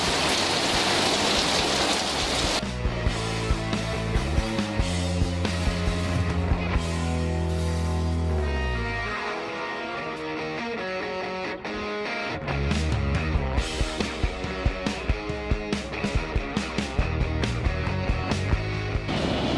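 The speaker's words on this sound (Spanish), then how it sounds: "no saben lo que llueve. Llueve fuertísimo." Heavy rain pours down hard during a black drum fishing tournament on the coast at Claromecó, Argentina, a loud continuous drumming of drops on a nearby surface with sharp patters.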